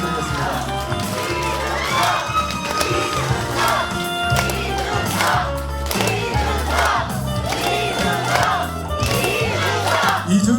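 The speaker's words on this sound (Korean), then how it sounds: "큰 박수 부탁드리겠습니다." Crowd cheering and clapping over loud rally music at a political campaign office opening in Hwaseong, Korea, with rhythmic chanting bursts and steady noise throughout.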